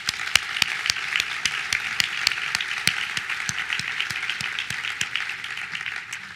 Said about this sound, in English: Will you all join me in a round of applause for them?